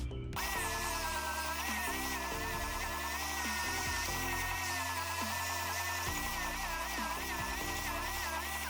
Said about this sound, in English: Let's go ahead and get started sanding.